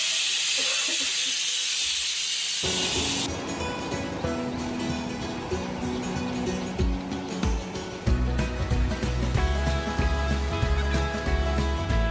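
Bombil (Bombay duck) fish frying in a pan, giving a loud, continuous close-up sizzle and hiss that grows denser partway through, with no talk.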